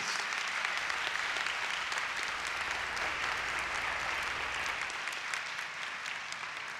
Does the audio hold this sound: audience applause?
yes